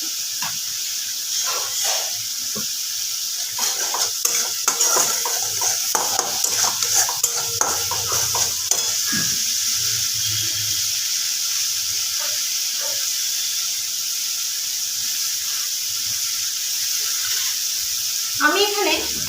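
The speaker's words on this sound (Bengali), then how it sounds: "এবার মশলাটাকে খুব ভালোভাবে কষিয়ে নেব।" Masala is stir-fried in a pan, steady sizzling under repeated scraping and clattering of a spatula against the metal, with a voice speaking intermittently.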